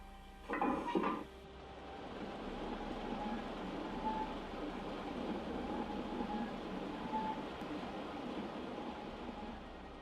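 A train of scrap wagons rolls past, a steady low rumble and rattle of wagons holding at moderate level after a short, louder clank near the start, with no talk over it.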